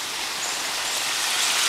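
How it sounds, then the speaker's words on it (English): A large garden water fountain by a house patio, splashing in a steady, rushing, rain-like wash that swells slightly louder, close by with no talk over it. "It's got this huge water fountain."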